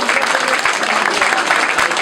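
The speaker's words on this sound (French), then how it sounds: "vous pouvez vous applaudir vous-même" Loud, dense applause from an audience at a Paris education competition final, sustained clapping throughout with a faint murmur of voices underneath.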